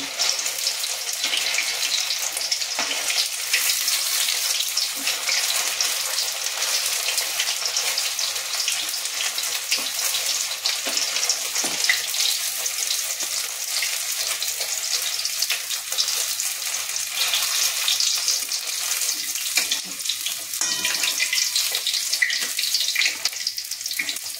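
Paneer pieces fry in butter with a continuous, even sizzling hiss that stays close and steady throughout, with no voices.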